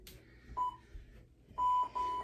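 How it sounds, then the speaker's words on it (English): An interval timer gives a short electronic beep, then two longer steady beeps in quick succession, clear and isolated against a quiet background. "now I'm gonna start that interval timer"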